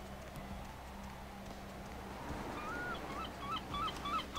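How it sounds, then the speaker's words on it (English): Seagulls in the game Vampire the Masquerade: Bloodlines give a short run of high, squawking calls. They are fairly faint and distant over a steady ambient background and grow more frequent toward the end. "Hey, seagull."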